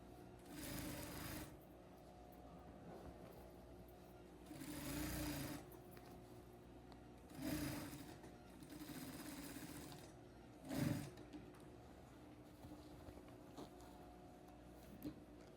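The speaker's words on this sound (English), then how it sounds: "For the second top stitch, start from the top and sew slowly, following the original stitch line all the way through" A sewing machine topstitches slowly along the waist of a pair of jeans, several short, fairly quiet bursts of motor hum and needle tapping separated by pauses, set against a constant low background hum.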